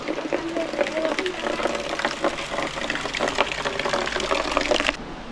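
Heavy rain pouring down at a village home in rural Konkan, a steady loud wash of water hiss that runs unbroken for about five seconds before cutting off abruptly, with a voice or two faintly in the background.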